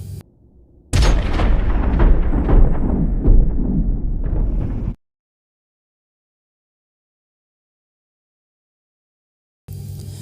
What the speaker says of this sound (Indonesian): Melihat kejadian itu, Hill langsung berlari menghampiri, namun sayangnya ia ditembak saat itu juga.